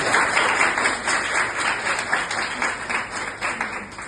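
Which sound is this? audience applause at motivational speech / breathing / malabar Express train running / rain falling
audience applause at motivational speech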